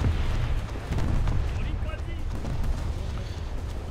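Torpedoes launching from a destroyer in a naval combat video game, a steady rumbling roar of game effects with muffled booming bursts running the whole time, loud and close.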